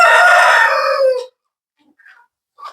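Chickens being fed cucumber and Chinese cabbage give a loud, close crowing call that lasts about a second, followed by a couple of faint soft clucks.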